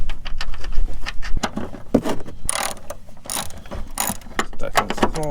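A ratchet wrench clicks in quick bursts while tightening a 14mm suspension bolt on a Mazda CX-5, close and sharp, with short pauses between strokes.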